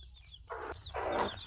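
A chicken clucks twice nearby, two throaty bursts close together over a quiet background.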